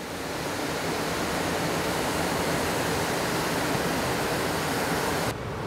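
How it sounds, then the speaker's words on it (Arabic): Atakoy waterfall in a village in northern Turkey pours in a steady, dense broadband roar that fills the whole span close up and never lets up, with no voices over it. "هذا شلال أتاكوي، أتاكوي شلال موجود في قرية أتاكوي"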